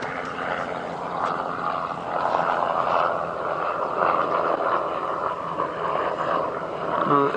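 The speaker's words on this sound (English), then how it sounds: "It is a helicopter, flying quite low" A helicopter flies low past a safari vehicle on a morning game drive in the South African bush, a steady droning rotor and engine roar that swells slightly as it passes, loud and unbroken.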